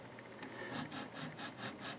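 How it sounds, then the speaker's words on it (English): A sanding stick rubs back and forth across a model A-10 Warthog aircraft part, giving soft, rhythmic scratchy strokes, about six close, quiet passes in a steady cadence with no talking. "take your sanding stick and start sanding it down"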